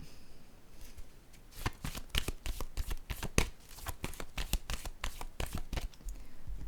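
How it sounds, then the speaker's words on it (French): Playing cards are shuffled and handled at close range, a quiet start giving way to a fast run of crisp riffling snaps and flicks, with no voices. "Je vais déposer une carte ici."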